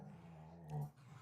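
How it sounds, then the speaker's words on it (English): Dogs whimper and growl softly and faintly in a low, drawn-out tone, with a short louder whine swelling near the end. "The dogs are making noises."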